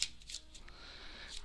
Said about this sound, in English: give the cards a cut and a shuffle just like this